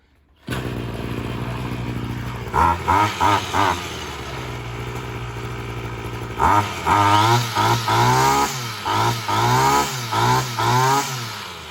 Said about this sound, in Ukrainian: Перед тим стараюсь завести, тут вже підкачки не потрібно, я вже заводив.